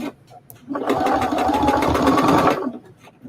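A sewing machine runs up close, stitching tight seams around a curve on denim jeans being made into a jacket, with one steady, loud burst of rapid whirring between brief pauses.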